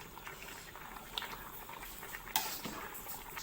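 Siamese cassia leaf curry with pork belly simmers in a pot, a faint, close bubbling boil with scattered small pops and one sharper click.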